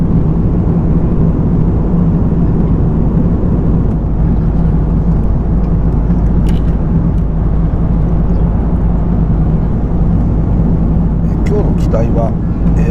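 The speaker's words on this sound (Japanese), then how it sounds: "機体はエアバスの A330 の300というタイプですね。" Loud, unbroken roar of an older Airbus A330-300 airliner cabin in flight, a mostly empty cabin filled with a dense steady engine and air rumble, with a voice talking over it.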